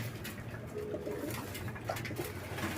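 Pigeons bathing in coarse salt water in a loft, their soft cooing and wing flutters sounding close amid steady splashing and background noise, with no talk.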